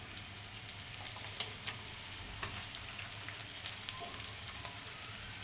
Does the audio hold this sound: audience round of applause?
no